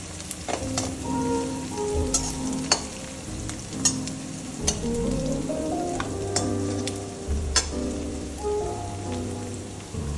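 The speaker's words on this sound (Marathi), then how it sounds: "गॅस कमी ठेवायचा लालसर भाजून घ्यायचे कांदे" Onions frying slowly on a low gas flame until reddish, a steady soft sizzle with scattered spatter pops and occasional stirring scrapes, close and continuous with no one talking.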